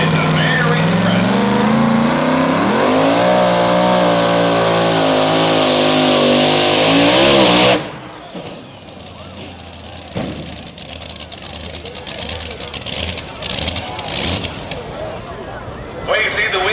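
Big block Chevrolet engine in a Mary Express pulling truck roars loud and sustained at the truck and tractor pull, revs climbing and wavering for about eight seconds before cutting off abruptly, leaving crowd noise and a commentator talking.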